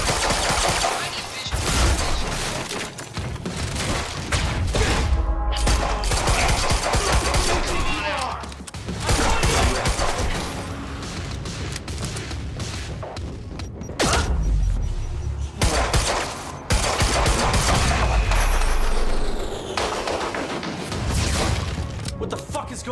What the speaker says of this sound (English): I'm getting reports of gunfire in the underground parking lot.